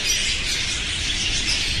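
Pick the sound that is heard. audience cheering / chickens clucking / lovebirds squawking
lovebirds squawking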